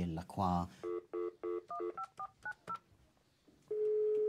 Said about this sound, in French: Il fait passer un entretien téléphonique à Lena, une Allemande de 26 ans.